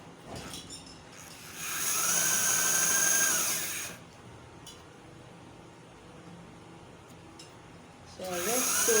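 A sewing machine stitches two crinoline layers together a quarter inch from the edge, running in one steady two-second burst. Quieter handling noises and brief clicks surround it, and a second burst starts near the end.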